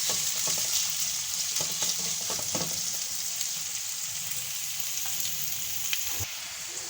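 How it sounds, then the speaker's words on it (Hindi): Chopped onions fry in about three to four tablespoons of oil in a karahi. They give a steady, close sizzle with a few scattered crackles and pops, alone without speech. "अब मैं इसमें ये प्याज डाल रही हूँ और इसको लाइट गोल्डन करूँगी।"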